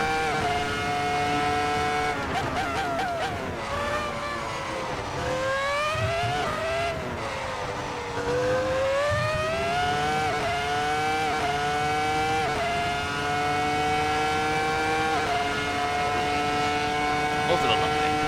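A Ferrari F2004 Formula One engine screams at high revs in a racing game, its pitch climbing and dipping through gear changes, with a steady loud drone throughout.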